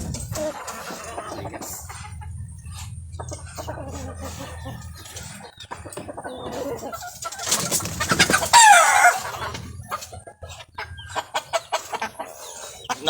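An Americana hen clucks and calls in short, close bursts, with other poultry sounds and a louder squawking flurry partway through, over a low ambient hum.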